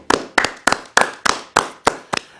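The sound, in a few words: hand clapping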